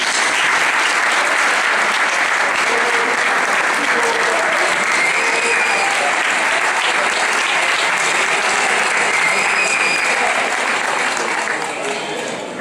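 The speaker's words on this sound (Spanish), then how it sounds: "Un aplauso también para ellos." A full audience at a graduation ceremony for vocational training courses at IES Serpis in Valencia, Spain, claps loudly and continuously, a dense, even roar of applause that fades slightly at the end.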